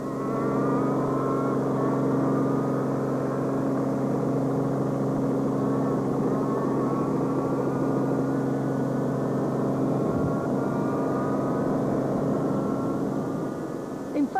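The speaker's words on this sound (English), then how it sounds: "Jan Habig and Douglas Judd found the handling of their car much more to their liking on day 2 and were flying" A Volkswagen rally car driven hard on a special stage at a 2007 rally, its engine a steady, loud, close drone with shifting pitch throughout, alone without talk.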